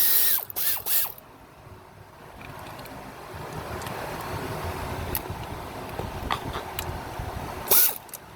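Bolts being worked loose from the intake manifold of a Chevrolet Cruze 1.4L, a few sharp metallic clicks and ratcheting taps up close, with a steady low mechanical hum in between.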